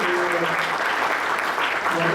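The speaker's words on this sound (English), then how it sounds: "I therefore request all of you to carry a loud vote of applause." An audience at a legal talk by a senior advocate applauds, a dense, steady wash of clapping from many hands filling the hall without pause.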